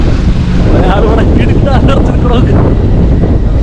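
Strong wind buffets the microphone in a steady, loud roar on a hilltop road near Munnar on the way to Marayoor, with a voice talking underneath throughout.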